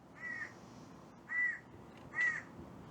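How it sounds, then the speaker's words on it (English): A crow caws three times, spaced about a second apart, each call hoarse and moderately near over a quiet background hum, with no talk. "This crow has a lot to say."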